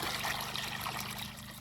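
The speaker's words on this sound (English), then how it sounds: "I'm gonna just water in a little extra." Water trickles and pours steadily onto soil in a garden earth box holding peppers and tomatoes, a continuous close, soft wet splashing with no talk.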